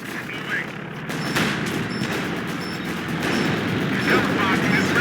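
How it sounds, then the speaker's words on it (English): Assault gun and machine gun fire in the strategy game Company of Heroes 2: dense, continuous volleys of gunshots and booming artillery-like blasts rolling on for several seconds, with voices speaking over the battle. "Assault gun firing."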